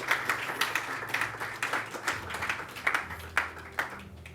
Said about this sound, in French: Le public va vous applaudir bien fort.